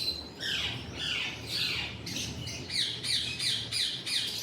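A High Red parrot from a breeding pair gives a rapid series of harsh, loud squawks, repeating about a dozen times at a fairly even pace, close by.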